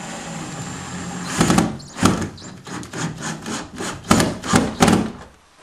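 Screw being driven into a wall to mount a guitar hanger, a series of close, gritty grinding turns in uneven bursts, loud and with no talking.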